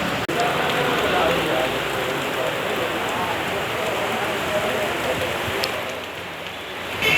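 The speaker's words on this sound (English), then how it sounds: "Today it's raining in front of KPCC." Steady, dense rain pours outdoors in heavy monsoon-like weather, a continuous hiss of drops on wet ground throughout, close and fairly loud.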